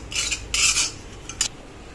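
Dry roasting of coconut and curry leaves for karuveppilai podi in a hot cheenachatti, stirred with a spatula: three bursts of scraping and rustling, close and moderately loud, with brief quiet between them and no talk.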